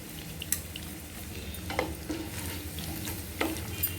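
Cumin seeds fry in oil for an okra and spring onion fry, making a faint, close sizzle with scattered small pops and stirring clicks.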